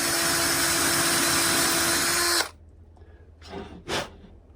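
Loud, steady whine of a power drill boring into a wooden walking stick for a couple of seconds, then cutting off abruptly, followed by quiet and two soft scraping sounds.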